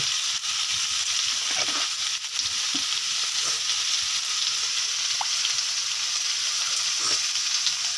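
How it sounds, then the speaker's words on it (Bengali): Chicken meat sautés in a pan with spices and salt, giving a continuous close, crackling sizzle with occasional soft stirring scrapes and no pauses. "দেখুন বন্ধুরা মাংসটা কষানো প্রায় হয়ে এসছে"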